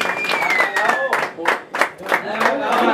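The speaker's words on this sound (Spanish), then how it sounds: "aplauso bien especial, por favor, para ellos dos, por los cumpleaños" Guests at a mariachi birthday celebration for a couple applaud, with steady clapping and cheers, fairly close and continuous, mixed with voices.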